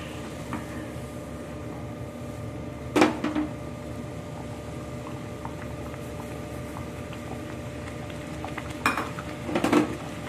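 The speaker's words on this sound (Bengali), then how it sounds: "এখন এর মধ্যে আমি সুজিটা দিয়ে দেব, অল্প অল্প করে দেব, নাড়াচাড়া করব" Semolina being stirred into water in a pan, a soft continuous background of stirring with a few sharp clinks of a spoon against the metal pan.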